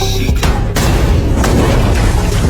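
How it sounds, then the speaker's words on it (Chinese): A hand grenade explodes in a film scene: a loud, deep boom with sharp bursts and a sustained rumbling blast filling the entire moment. "不料爆炸的余威瞬间冲击到这边"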